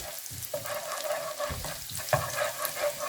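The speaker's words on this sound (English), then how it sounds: "You don't want the garlic to burn at all. So just stir it for a minute." Garlic sizzles steadily as it is stir-fried in a pan for chicken spring rolls, with a continuous close hiss and occasional scrape or stir accents, and no talking.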